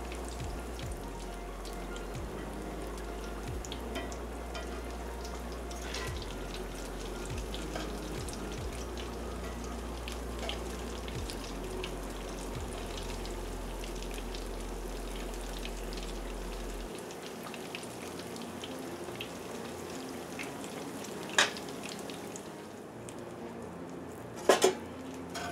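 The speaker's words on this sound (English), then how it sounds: "Okay, the eggplant is now fried." Eggplant frying in oil for a vegan eggplant parmesan, a steady dense sizzle and crackle running throughout, with a low hum that stops partway and a couple of sharp clinks near the end.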